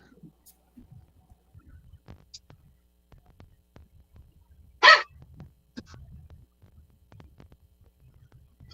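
A dog, someone's pup, gives one sharp bark partway through, loud and close against a quiet backdrop of low murmuring and hum.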